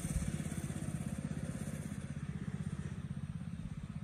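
Coleman RT200 196cc mini bike pit bike engine passing close by, a steady rapid low putter with a fast chugging pulse that fades slightly toward the end.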